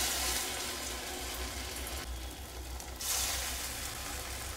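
Chira pakoras fry in hot white oil, giving a dense, even hiss with a slight dip in the middle before the sizzle swells again.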